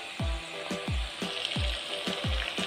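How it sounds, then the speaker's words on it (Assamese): Ginger-garlic paste sizzles in hot oil in a kadai with fried onions, bay leaf and fenugreek seeds for a rohu fish curry, with a steady hiss broken by rhythmic scraping stirs about twice a second. "এইখিনি সুন্দৰকৈ ভাজি ল'ব লাগিব"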